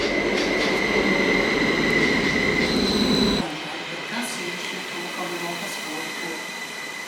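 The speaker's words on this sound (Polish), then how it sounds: "A to już właśnie mój pociąg." A passenger train pulls into a station, a steady rolling rumble with a high sustained squeal of the wheels and brakes that suddenly drops off partway, leaving quieter station ambience and faint mechanical rattles.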